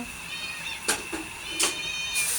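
A cat meowing indoors in a home kitchen, with a few short meows spaced across a couple of seconds over a steady background hum, moderately close.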